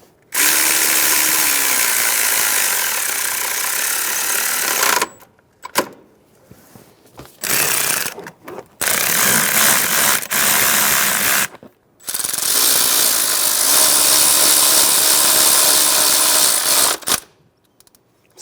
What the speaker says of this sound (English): I'm going to snug that bolt down